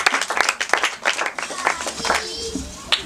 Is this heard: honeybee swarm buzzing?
no